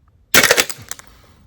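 A Svoboda airsoft Barrett M107 gas blowback sniper rifle fires a single loud, sharp shot, whose crack and short burst of mechanical clatter die away over about a second.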